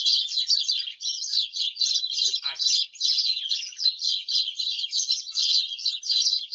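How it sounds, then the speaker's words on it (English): Dense, continuous high-pitched chirping and twittering from many birds, steady and fairly loud throughout with no pauses. "This is what those birds are doing."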